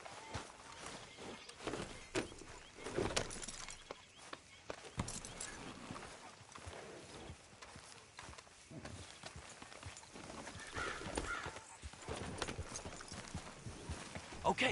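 Horse hooves clip-clop at a steady trot in the video game Red Dead Redemption 2, a rapid muffled rhythm running throughout at moderate distance, with faint ambient noise and occasional brief sounds over it.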